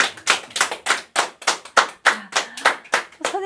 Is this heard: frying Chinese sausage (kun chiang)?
no